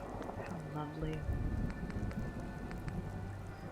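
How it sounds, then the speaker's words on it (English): Rain patters steadily across a farm settlement in the video game Fallout 4, a soft, even hiss of drops with faint thunder-like swells and a voice murmuring quietly beneath. "And it's raining now."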